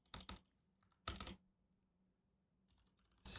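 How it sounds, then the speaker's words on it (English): A few quick bursts of computer keyboard typing come in short clusters separated by silent pauses, close and quiet, with no talk. "I'm going to type this out."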